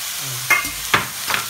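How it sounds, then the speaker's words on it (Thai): Curry powder being toasted and stirred in a pan for Japanese curry udon, a short close clip with three quick scraping stirs over a faint sizzle, no voices. "ต่อมาครับผงกะหรี่ของเราครับ ใส่ลงไปคั่วตอนนี้เลยครับ"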